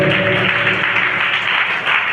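A church congregation clapping loudly at a baptism service, dense continuous applause holding steady for the whole stretch, with no voices standing out.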